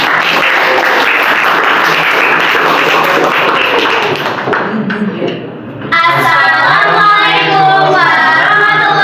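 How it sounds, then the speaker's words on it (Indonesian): A classroom group claps in a loud burst of applause mixed with thumps and taps for several seconds, then the clapping stops and voices begin speaking. "Oke, kelompok ini tepuk tangan."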